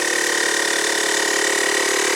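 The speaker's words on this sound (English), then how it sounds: "get my tire inflated up to my target PSI. This is a powerful little pump." A Kobalt portable air pump inflating a truck tire drones loud and close, a steady motorized hum with a constant tonal whine and no change in pitch.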